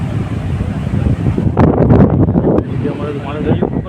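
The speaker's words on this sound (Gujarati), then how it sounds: "દરિયો એકદમ તોફાન કરે છે" Strong wind buffets the microphone on a stormy seashore at Mandvi in Kutch, with rough waves surging underneath in a loud, blustery roar that intensifies in bursts.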